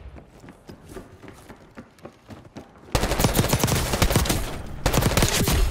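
Gunfire in a Call of Duty match on Rebirth Island: distant sporadic shots at first, then a sudden surge of close, loud automatic fire from a Jackal PDW that carries on to the end, with no talk over it.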